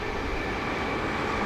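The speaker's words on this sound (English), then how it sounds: "There's that train you were expecting. Coming from London," A train heading from London toward Wokingham passes near a golf course, making a steady, loud broadband rumble and hiss that stays constant throughout with no voices.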